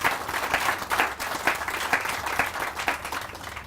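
Outdoor audience applause at a ribbon cutting for the Scranton to Taylor section of the Lackawanna River Heritage trail, lively clapping from a modest crowd with distinct individual claps and a fairly close sound, steady before tapering.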